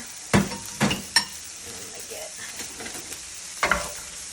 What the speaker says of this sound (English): And I'm going to add my onion. I'm going to let that cook a little bit.